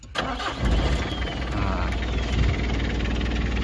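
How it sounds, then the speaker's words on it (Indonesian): A Mitsubishi Kuda diesel engine cranks briefly, then catches and settles into a loud, steady, rattling idle up close. "kita coba uripke mesinnya Mas"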